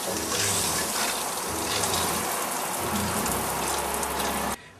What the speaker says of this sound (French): J'ai les deux robinets ouverts, l'eau chaude et l'eau froide.